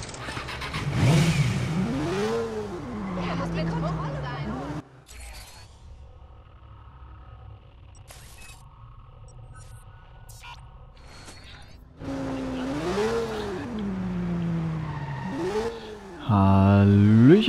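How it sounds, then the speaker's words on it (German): A small moped engine in the video game Watch Dogs revs up and down in rising whines, loud at the start and again near the end, with a quieter stretch between. "Ich habe mir mal gerade ein kleines Motorrad, ein kleines Moped ausgeliehen oder bestellt."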